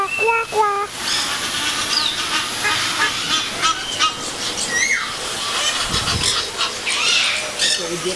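Ducks or geese at a mini zoo give loud, close honking squawks in repeated bursts, with people chattering nearby and a person imitating quacks.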